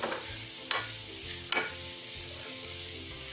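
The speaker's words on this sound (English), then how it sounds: "next to go in is some finely chopped onion. I'm going to cook that for a bit." Finely chopped onion cooks in regular oil in a single pan, giving a steady sizzle with repeated stirring scrapes and two sharper clinks of a utensil against the pan.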